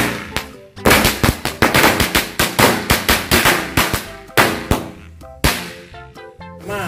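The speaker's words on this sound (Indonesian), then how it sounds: "yang selanjutnya kita nyalain 5 jenis mercon korek yang udah kita susun seperti ini" A rapid string of small match firecrackers pops loudly and irregularly, sharp cracks in quick succession, thinning out to a few final bangs.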